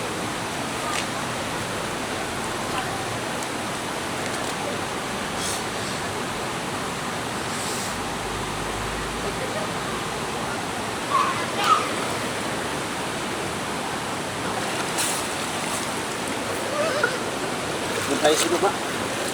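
A river flowing between towns of Laguna and Quezon Province near Lucban rushes with a constant broadband roar like a stream or small falls, steady throughout, with a few faint brief clicks and splashes on top.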